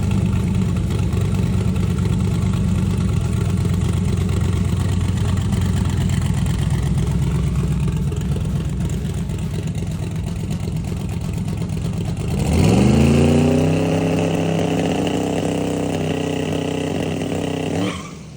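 A tuned car engine idles with a low, lumpy rumble, then blips into a loud rev that climbs in pitch before settling back down.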